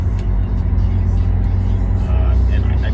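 Audi B5 S4 with stock suspension, running light and torquey, its engine a steady low drone and revving hum at close range, continuous throughout with no pauses.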